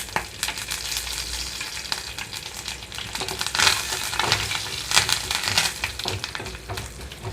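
Seeds and curry leaves crackle and sizzle in hot tempering oil, with sharp irregular pops and stirring scrapes up close, no talking.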